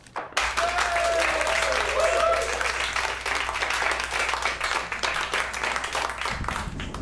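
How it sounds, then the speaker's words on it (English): A stand-up comedy audience breaks into sustained applause for a comedian taking the stage. The clapping is dense and steady from a sizable crowd, with faint voices underneath. "Give it up big time for Geoff."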